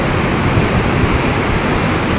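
Fast river water rushes past loudly and without a break, a dense, steady roar of flowing water filling the whole clip, close by and with no voices over it.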